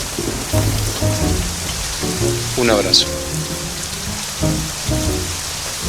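Steady rain falls through a nighttime scene in a drama series, a continuous hiss running beneath two men's conversation and a brief embrace.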